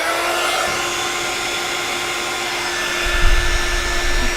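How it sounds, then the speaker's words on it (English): A heat gun warming up before heat-setting a card panel blows with a steady close airy roar and faint whine, holding level throughout with a slight low-end rumble near the end. "So let me grab my heat gun, heat tool."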